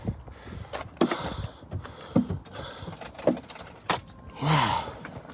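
Car keys jangle in a snowy outdoor setting, several short metallic rattles and clinks spread across a few seconds, close to the listener.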